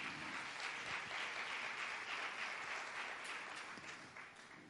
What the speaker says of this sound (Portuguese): aplauda ao Senhor Jesus nesta noite.